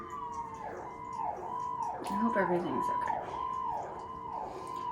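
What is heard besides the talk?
ambulance siren passing outside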